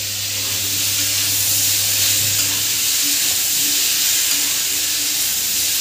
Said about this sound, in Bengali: আমি এটাকে বেশ কিছুক্ষণ করে ভেজে নেব।